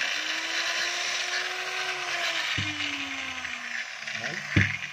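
A DeWalt DW803 4-inch angle grinder that runs slowly and sputters spins up on test, whining steadily before cutting out, then restarting briefly with a short rise in pitch.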